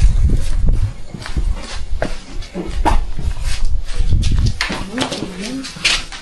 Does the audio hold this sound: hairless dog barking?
yes